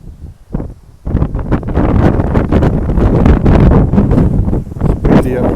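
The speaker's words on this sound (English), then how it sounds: "It's windy up here" Strong gusting wind on a cliff top buffets the microphone, roaring and rustling almost continuously after a brief quieter start.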